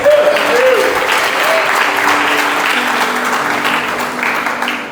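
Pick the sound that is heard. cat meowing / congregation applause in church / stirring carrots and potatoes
congregation applause in church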